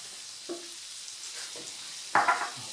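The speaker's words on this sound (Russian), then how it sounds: "И начинаем все это мешать." Flour being stirred into fat in a pan while making a mushroom and chicken julienne, with a few soft scraping strokes and a faint background hiss, a louder scrape near the end.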